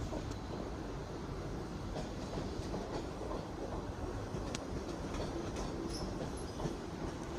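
A Class 450 electric train, unit 450546, pulls out of platform 15 at London Waterloo, a steady close rumble of wheels and motors with faint rail clatter and no voices.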